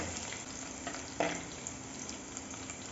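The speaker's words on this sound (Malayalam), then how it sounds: "വെളുത്തുള്ളിയും അതിൻ്റെ അകത്തേക്ക് ഇടുന്നു ചെറുതായിട്ടൊന്ന് വഴന്ന് വരുമ്പോൾ വെളുത്തുള്ളി മറ്റേ ചുവന്നുള്ളി കൂടി അതിൻ്റെ അകത്തേക്ക് ഇടുന്നു" Garlic and shallots fry quietly in a pan for a Kottayam-style fish curry, a faint, even sizzle with one brief stirring clink.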